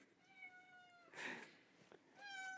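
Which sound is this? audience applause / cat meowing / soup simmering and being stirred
cat meowing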